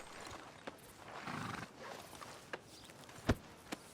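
Horse sounds from Red Dead Redemption 2 in a quiet town setting: a soft whinny and snort over a low ambient bed, followed by a few scattered, sharp hoof or footstep knocks, fairly faint and without speech.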